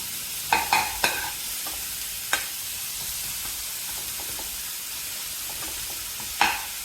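Dry fruits frying gently in ghee on a low gas flame for a pumpkin halwa, a soft steady sizzle broken by a few scattered stirring scrapes and clicks, with no voices.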